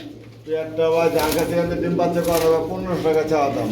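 Pigeons for sale coo at a market stall, a low throaty purring running steadily close by beneath an ongoing conversation between men haggling.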